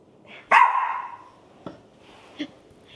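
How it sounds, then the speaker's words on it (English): A single loud, sharp dog bark rings out nearby with a short trailing echo, followed by a couple of faint thumps or small noises. "She's our doggie."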